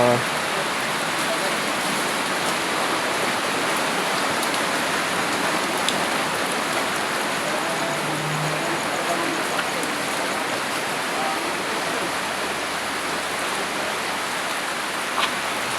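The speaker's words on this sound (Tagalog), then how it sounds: "So, grabe yung ulan guys." Heavy rain pours steadily and densely, a continuous loud hiss of water drumming on surfaces with no pauses.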